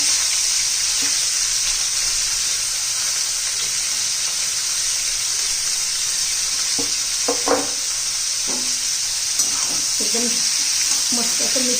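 Onion and bitter gourd (karela) go into a hot pan and sizzle steadily, with a few brief stirring scrapes near the end. A constant hiss holds throughout and no one speaks.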